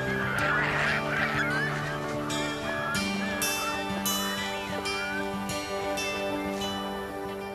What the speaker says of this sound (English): Thousands of waterfowl come to rest at the salt lakes and ponds.